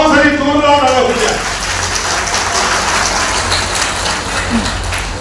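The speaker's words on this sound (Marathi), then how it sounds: "बाबांसाठी जोरदार टाळ्या होत्या" An audience at a devotional thanksgiving ceremony bursts into loud applause, a dense crackling roar of clapping that follows a brief spoken voice and carries on to the end.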